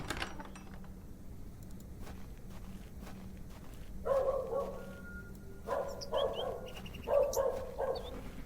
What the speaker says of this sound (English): Doggo's barking.